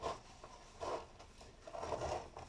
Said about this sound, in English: We're just going to give a quick scrubbing.